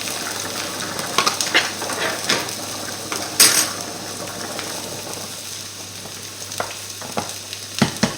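Potato purée cooking in a pan gives a steady low sizzle and bubbling, with scattered clinks and scrapes of a utensil against the pan.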